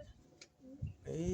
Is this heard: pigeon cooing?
yes